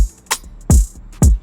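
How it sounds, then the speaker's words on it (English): Open hi-hat in a programmed beat, ringing out in three short, crisp hits between punchy low drum thumps, close and loud with no talking. "Got an open hat,"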